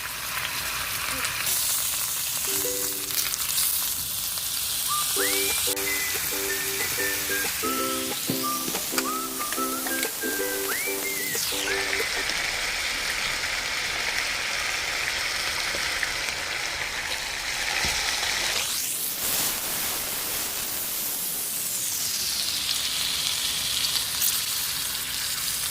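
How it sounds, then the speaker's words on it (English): Garlic, onion, rosemary and thyme sauté in an oiled pan after beef has seared, a steady sizzle running throughout, with brief intermittent stirring and clinks. "Saute the garlic, onion, rosemary, and thyme."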